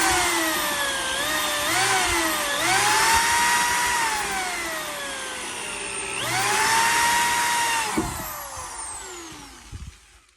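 Cordless power drill driving screws through a windlace retainer on a car body build, its motor whine rising and falling in several close, loud bursts of varying pitch, with a brief clatter near the end.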